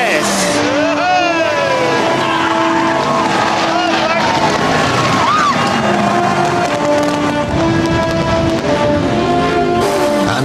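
Stock car racing at a world final, a car screaming down the raceway's back straight: a loud continuous engine roar with pitch sweeps as it passes, mixed with crowd noise and an announcer's voice throughout.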